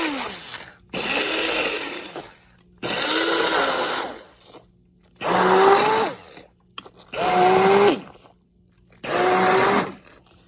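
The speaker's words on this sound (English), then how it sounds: "Using a hand blender, I'm going to blend it." Hand blender whirring in five separate bursts with short pauses between, its high motor whine rising and dipping as it churns through thick cooked mustard greens for sarson ka saag.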